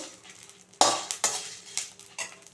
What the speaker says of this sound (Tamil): கருவேப்பிலையும் சேர்த்துட்டு இதை நம்ம வறுத்துட்டு போகிறோம்